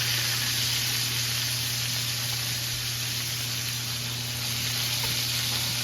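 Hand cut pork chops sizzle steadily in a hot pan, a loud, continuous broadband hiss with faint crackles and a low hum underneath, no talking.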